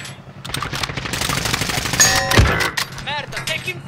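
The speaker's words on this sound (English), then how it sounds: "I'm taking fire!" Rapid automatic gunfire in a video game firefight, loud and close, with dense bursts of shots and sharp pings over a steady background of game noise.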